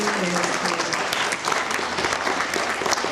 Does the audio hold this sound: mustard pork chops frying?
no